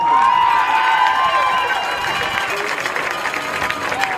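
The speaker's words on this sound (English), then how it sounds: "Ladies and gentlemen, please a round of applause for our candidates this year." A football stadium crowd applauds and cheers for the homecoming candidates, a broad, steady roar of clapping with scattered shouts that fades slightly toward the end.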